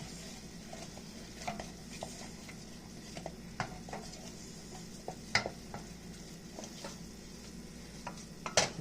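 A spoon stirs a butter and flour gravy cooking in a pan, scraping with intermittent clinks over a soft steady sizzle, with no talking.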